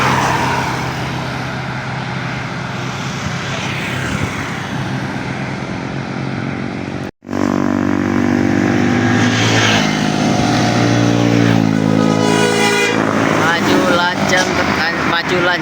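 A medium-sized bus rolls past on a road in West Sumatra, its engine a loud, close, steady roar with droning harmonics. After a momentary break partway through, the engine note rises and shifts, and a voice is heard over the noise.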